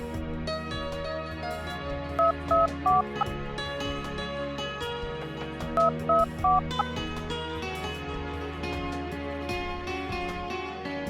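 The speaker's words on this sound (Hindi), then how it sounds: "डैड को फोन लगाती हूँ।" Two quick bursts of three or four phone dialing tones sound over a steady music bed as a woman places a call to her father in a Hindi-dubbed film scene.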